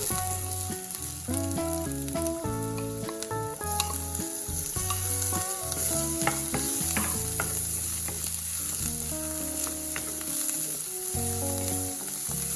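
Green chilli and garlic paste frying in a pan with spinach buds, a loud steady sizzle mixed with stirring clinks and scrapes throughout, heard alone without talk.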